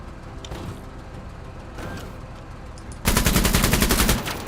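Gunfire in the strategy game Menace, at first distant and muffled, then a loud sustained burst of rapid automatic shots that breaks in suddenly and rattles on for over a second before easing.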